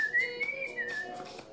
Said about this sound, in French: Je siffle bien.